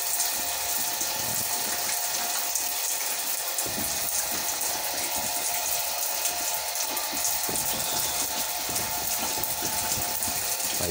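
Water spraying steadily over piglets during their first bath since birth, a continuous hissing shower noise that runs the whole time with faint rattling mixed in and no voices.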